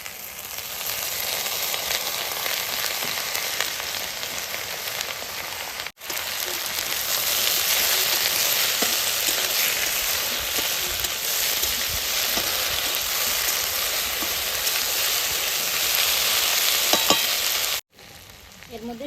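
Boiled taro stolons fry with dried fish in a pan, giving a dense, steady sizzle and crackle that carries on loudly with two brief breaks and no talking.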